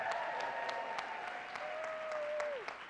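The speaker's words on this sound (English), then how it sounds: "How about a big round of applause for all of our debaters today?" Audience applause for student debaters at a student affairs debate event, a steady patter of clapping from a modest crowd with a sustained tone running beneath it, fading out near the end.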